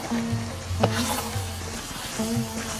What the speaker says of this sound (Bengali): আমি সরিষার তেল দিয়ে আরো কিছুক্ষণ ভেজে নেব